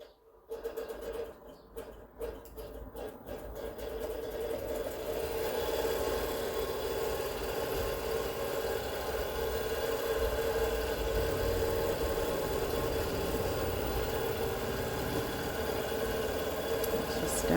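A Bernina Q-matic long arm quilting machine starts up with a few clunks, then settles into a steady, even mechanical hum that carries on to the end.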